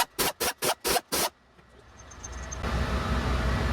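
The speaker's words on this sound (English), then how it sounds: "We have 6 12-point bolts, just a 5/8 12-point socket on the impact, and remove the bolts." An impact wrench with a 5/8 12-point socket spins off cam gear bolts on a Caterpillar C15 diesel engine, five sharp close bursts in quick rhythm, followed by rising background shop noise.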